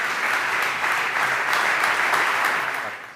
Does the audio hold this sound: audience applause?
yes